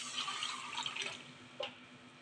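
Water pours from a cup into sugar to make rasgulla syrup, a soft splashing trickle with a few faint drips, quiet and close, with no talking.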